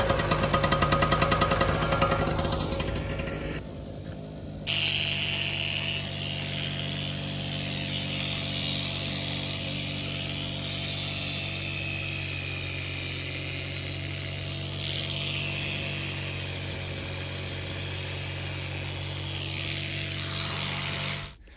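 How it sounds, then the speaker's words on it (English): A farm generator starts up after a loud mechanical clatter, then settles into a steady, droning hum that runs continuously for over fifteen seconds before cutting off at the end. "Last words before the generator comes on?"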